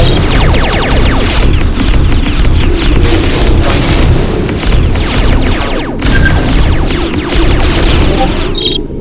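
A grenade blast in a video game battle against orcs and machines, heard as a loud, sustained rumbling boom with crackling debris throughout, close and dominant, with voices underneath.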